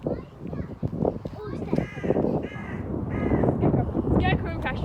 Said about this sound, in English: It's just a crow.